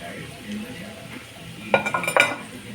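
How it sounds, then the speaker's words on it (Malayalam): Ground ginger and garlic go into a pan of frying onions for a chicken curry and get stirred, a short burst of spoon scraping and clinking against the pot over a low sizzle. "ഇതിലോട്ട് നമുക്കിനി അരച്ച് വെച്ച ഇഞ്ചിയും വെളുത്തുള്ളി ഇട്ട് കൊടുക്കുക"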